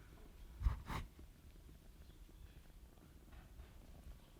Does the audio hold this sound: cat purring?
yes